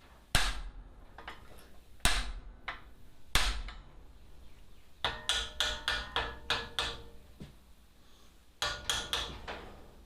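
Hammer blows on a handmade metal welcome sign, sharp metallic strikes in irregular groups, some single heavy hits then quicker rhythmic runs, close and clear.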